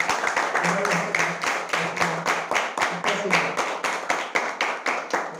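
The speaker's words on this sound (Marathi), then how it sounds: "तर तेली सरांसाठी मुद्दा म्हणून एकदा पुन्हा टाळ्या झाल्या" An audience at a birth anniversary event applauds a speaker with loud, sustained, rhythmic clapping that carries a steady beat throughout, close and full, with a faint voice underneath.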